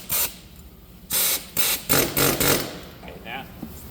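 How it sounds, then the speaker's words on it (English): Several short, loud bursts of a pneumatic air hammer punching pins out of a Cat forklift chain, hissing and rattling in quick succession with brief pauses between them, up close. "And now we'll take our air hammer."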